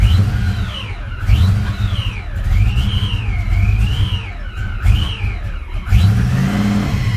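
Supercharged Fox body Mustang engine idling roughly at its first start with the idle air control unplugged, its loud, close revs rising and sagging in uneven surges as it struggles to stay running.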